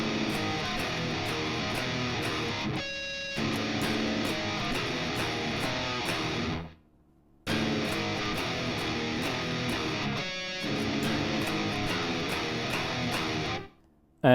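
Electric guitar playing a song, with open top strings strummed in a steady, busy pattern. It is loud and continuous, drops out briefly near the seven-second mark, then resumes and runs to the end, with no talking.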